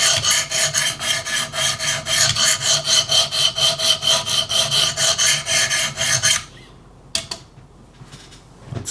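EmpEDC Nymble-W knife blade sharpened on a Wicked Edge guided sharpening system: loud, rhythmic rasping strokes of stone on steel, about four per second for six seconds, then stopping, followed by a few faint scrapes.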